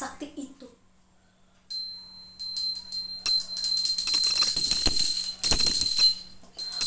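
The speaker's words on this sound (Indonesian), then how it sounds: "Ia membunyikan genta sakti itu." A magic bell is rung at the crater of Mount Agung, giving a bright sustained metallic ringing tone with shimmering overtones that swells and sustains for several seconds after a brief faint voice.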